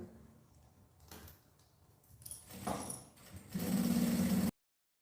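A sewing machine stitches fabric for a luxury toiletry bag, a burst of close mechanical whirring near the end that follows softer handling clatter and rustling.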